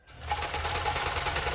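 A Kenmore 10 Stitch sewing machine runs steadily for free motion sewing with the presser foot pressure released, a continuous close whirring hum after a brief start, no talk.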